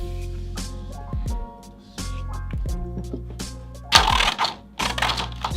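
Scissors snip through a plastic snare drum head in a series of sharp, close clicks and crunches, irregularly spaced, with one louder crackling cut near the end.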